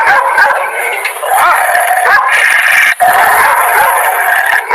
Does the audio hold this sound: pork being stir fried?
no